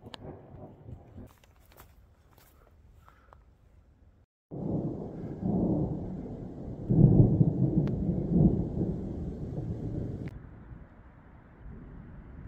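Quiet rustling gives way to a deep rolling rumble of thunder from a passing thunderstorm outdoors on a long-distance trail hike, swelling, peaking, and slowly fading, with steady rain or wind noise underneath.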